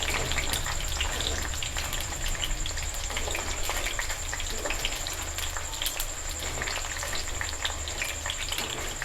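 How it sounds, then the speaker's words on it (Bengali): Lentils fry in a pan for a laddu sweet, with a continuous crackling sizzle and scattered scraping from a spoon stirring them nonstop. "সমানে চামচ দিয়ে নাড়তে থাকবেন অনবরত, যাতে প্রত্যেকটি ডাল সমানভাবে ফ্রাই হয়।"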